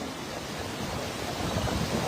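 Floodwater rushes with heavy force from a rising river near Ghonewal and Ramdas in Gurdaspur, a loud, steady broadband roar that swells slightly toward the end, with no voices.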